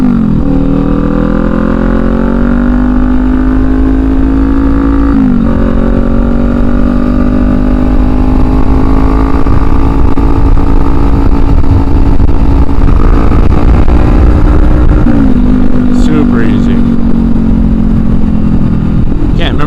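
A Kawasaki Ninja 400 motorcycle on new tires rides a sandy local track, its engine droning loud and steady with several gear shifts and rising revs.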